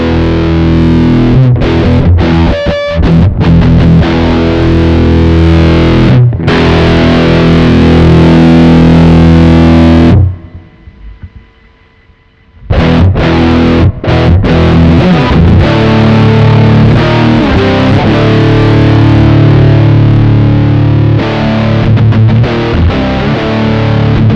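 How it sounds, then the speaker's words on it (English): Heavily distorted electric guitar through a Joyo effects pedal aiming for a rectifier-style amp tone, sounding woolly and muffled. Loud sustained chords and chugs play for about ten seconds, stop in a brief near-silent gap, then resume. "I think that's supposed to be like a rectifier type sound, but it sounds really woolly and muffled."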